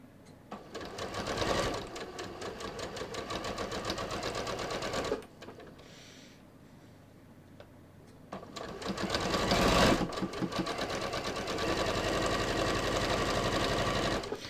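A sewing machine stitches a knit strip onto a neckline at a 5/8-inch seam allowance, its fast steady motor whir running in two long bursts with a quiet pause between them, heard close.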